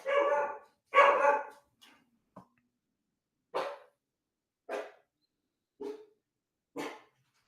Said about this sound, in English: The dog is pissed.